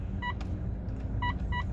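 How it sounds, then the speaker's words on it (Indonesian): Dashboard alert beeps in a Mitsubishi Pajero Sport Dakar: short electronic tones in groups, one near the start and two more spaced toward the end, clear over a steady low cabin hum with no talking. "Di bagian sini ada bunyi bip-bipnya"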